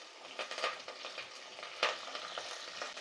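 Green and dried red chillies, a handful of shallots and curry leaves fry and get stirred in a pan, a soft steady sizzle with a few scraping strokes at a moderate distance, no talking.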